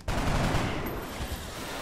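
Rapid gunfire from XCOM Enemy Within, a dense burst of overlapping shots that rolls into a sustained rumble, loud and close, then tails off into a lingering roar.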